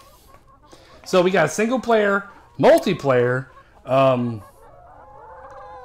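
Cartoonish chicken clucks and squawks from the video game Chicken Range come in short bursts, mixed with someone talking over them.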